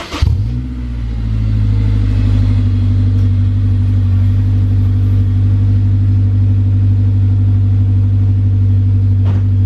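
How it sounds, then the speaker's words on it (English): A Honda S2000 with an HKS single exit exhaust drives along, its loud, steady low exhaust drone holding at constant pitch throughout with a deep rumble underneath, close and without talk. "the exhaust is really loud from just initial driving here"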